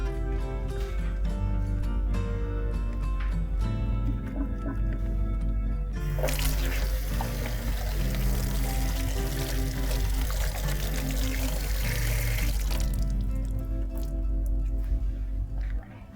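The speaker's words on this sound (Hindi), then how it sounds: "मैं सबको कहूँगी कि 20 सेकंड तक अच्छी तरह हाथ धोएं मेरे जैसे। यहाँ मैं यूज़ कर रही हूँ सेवलॉन हैंड वॉश" Hands being washed with Savlon hand wash under a running tap in a home kitchen, with a steady close stream of water, a louder gush in the middle and wet rubbing throughout, with no talking.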